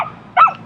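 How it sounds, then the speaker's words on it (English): A single short bark from a dog that is barking at a car, heard once and fairly close, with a low murmur of background noise around it. "this other dog is barking at the car"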